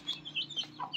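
Chickens that have just escaped their cage cluck in a rapid series of short, sharp bursts, close and moderately loud, with no talking over them.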